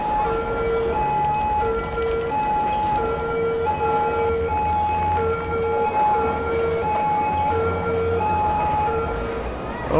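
Police car sirens in the city-building video game Cities: Skylines: steady, repeating two-tone wails that overlap continuously and are loud and close throughout.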